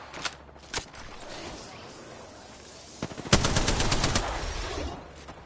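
Rapid automatic gunfire from a shooter video game: a few scattered single shots, then a loud sustained burst of machine-gun fire near the end, with a voice speaking faintly beneath.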